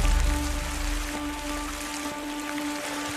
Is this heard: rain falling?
yes